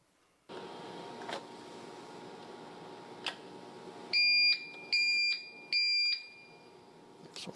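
Airport boarding pass scanner at a security checkpoint gives three short, evenly spaced electronic beeps signalling a rejected pass, heard against faint background hum and a few clicks.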